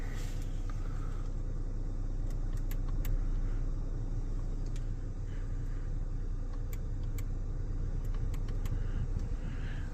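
Toyota Land Cruiser ZX V6 twin-turbo diesel idles after starting, a constant low rumbling drone heard from inside the cabin, with a few faint clicks and taps over it.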